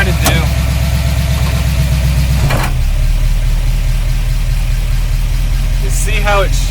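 Barn-find 1953 Oldsmobile Rocket Super 88 with a new carburetor idling loudly and steadily while warming up, a close, continuous rumble with brief squeaks and clatter on top.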